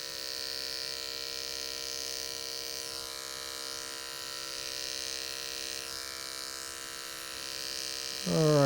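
Electric hair clippers buzz in a steady, close, continuous drone while shaving up an undercut on a man's hair, holding an even tone throughout and briefly rising at the end.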